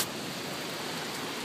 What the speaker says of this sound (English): it's really blowing and pouring right now